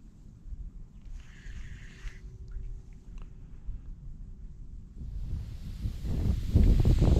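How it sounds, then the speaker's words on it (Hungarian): Wind gusting over a small lake at a fishing spot after a storm, a low rumbling buffet against the microphone that builds from a moderate rush into a louder, stronger blast toward the end. "Megint föltámadt a szél"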